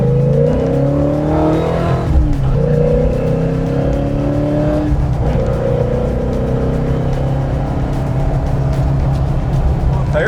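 A Foxbody Mustang roars loudly from inside the cabin as it accelerates hard, its engine note climbing through rising gears while the tires break loose; a voice speaks briefly over the din.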